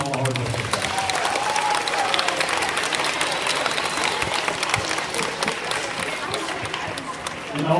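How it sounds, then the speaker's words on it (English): An audience at a sixth-grade awards day ceremony applauds parents, a sustained, dense roar of clapping from a large crowd with voices and chatter mixed underneath. "let's give a big round of applause for the reason you're here, your parents"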